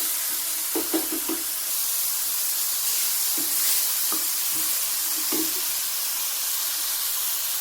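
Tomato juice and vegetables for pasta sizzle and hiss softly in a pan, with a spoon knocking and scraping against it in a few short bursts, no voices.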